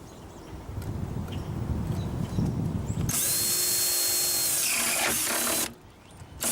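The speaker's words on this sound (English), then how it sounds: "The next hole we'll be drilling is the hole for the overflow." Power drill boring an overflow hole in a rain barrel: a soft scraping rumble first, then a loud high whine for about two and a half seconds that stops abruptly before briefly starting again.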